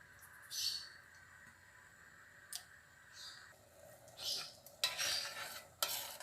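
A spoon stirs pumpkin raita in a bowl, giving a few soft scraping and clinking bursts that are close and fairly quiet, separated by pauses.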